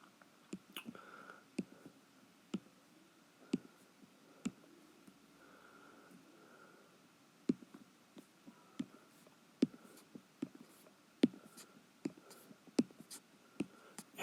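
A pen scratching out Pascal's triangle on paper, soft close-up strokes and sharp taps as numbers are jotted at an irregular pace in a quiet room.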